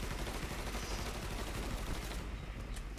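Dense, rapid gunfire from a Mafia 3 shootout fills the whole stretch, loud and continuous like sustained automatic fire, thinning slightly toward the end.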